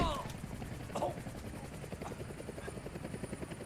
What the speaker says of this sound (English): Hanging upside down from a helicopter.